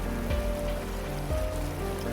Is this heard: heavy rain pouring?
yes